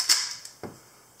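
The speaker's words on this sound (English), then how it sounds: "When you fire the shutter" A Kiev 88 medium-format film camera fires its shutter at 1/250 second, a sharp close mechanical snap followed moments later by a second, softer clunk, then quiet.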